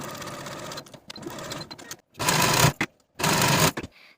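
A sewing machine stitches the sleeve seams of an easy top at a 5/8 inch allowance, running in three bursts: a rough uneven start, then two steady, loud stretches of stitching separated by short pauses.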